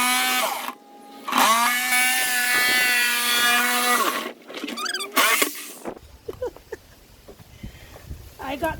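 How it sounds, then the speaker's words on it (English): A fairly new Garden Joy power drill whirs loudly with a steady high whine for several seconds, stopping and starting in short bursts, followed by quieter rustling and handling noises. "this is a fairly new drill. It's my very first time using it."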